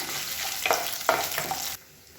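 Garlic and dried red chillies sautéing in a hot pan for a tomato-free chutney, a short burst of crackling sizzle with a few stirring scrapes that cuts off abruptly.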